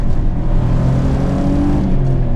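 A V6-swapped Acura Integra engine runs loud and close, a steady low droning hum with a sustained rev that holds fairly even across the moment, heard from inside the car with no talking.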